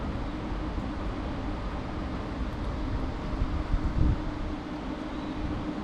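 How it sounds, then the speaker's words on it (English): Wind blows steadily across the microphone at an urban fishing spot, a constant broad rushing roar with a slight gust swelling toward the end, with no voices. "Oops, the wind's got my line now."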